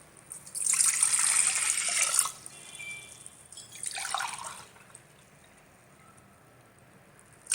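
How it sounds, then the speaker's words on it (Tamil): Rice-washing water poured into a pot of milk, two bright splashy pours of water into liquid a few seconds apart, close and fairly loud, with quiet between and no talking. "அந்த தண்ணியை நம்ம இதில் சேர்த்து விட்டுடலாம்"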